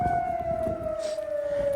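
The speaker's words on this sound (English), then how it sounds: "that siren probably would have freaked him out before too" A siren wails with a steady, slowly falling tone, loud and fairly close, over a low rumble of traffic.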